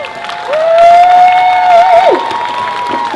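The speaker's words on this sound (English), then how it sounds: "Give yourselves a round of applause." Crowd applause and cheering at an anti-racism rally, a loud wash of clapping and shouts with a sustained high whistle cutting through for a couple of seconds before falling away.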